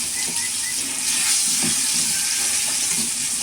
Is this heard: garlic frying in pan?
yes